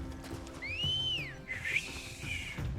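A whistle calls a Chocobo in Final Fantasy XVI: a clear rising-then-falling two-tone whistle over game ambience, followed by a brighter chirpy flourish as the mount arrives.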